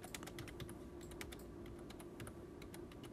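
Quick, continuous clicking of keys on a computer keyboard while text is entered into a Word label template, a dense run of close, crisp keystrokes with no talking.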